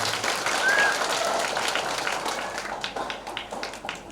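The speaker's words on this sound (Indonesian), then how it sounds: "Tepuk tangan untuk kedua jemaat ini." A church congregation at a Toraja ordination service applauds, a broad sustained wash of many hands clapping that gradually tapers, with a brief tonal chirp early on.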